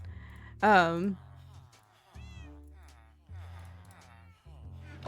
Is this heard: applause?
no